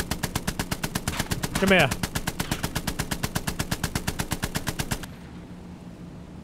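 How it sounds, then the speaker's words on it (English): H6K4 flying boat machine guns in War Thunder fire a long, rapid, evenly spaced burst for about five seconds, loud and close, with a brief voice partway through, then cutting to a quieter engine hum. "These are the most useless machine guns."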